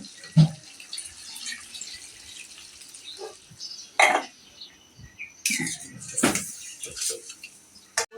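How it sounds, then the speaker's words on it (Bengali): Water splashes steadily into a pan of braised chicken and potatoes, broken by sharp clinks of utensils against cookware and a brief cough nearby. "এখন পানিটা দিয়ে দিব।"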